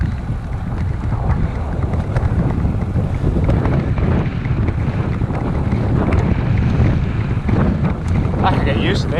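Strong wind buffets the microphone steadily while riding a bicycle through the Friesland countryside near Bolsward, a loud, constant rushing roar filling the whole stretch.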